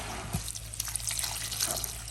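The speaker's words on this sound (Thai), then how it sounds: "เทน้ำลงแบบนี้" Water poured by hand while preparing a pickled wild vegetable dish, a steady close trickle and splash running throughout the short moment.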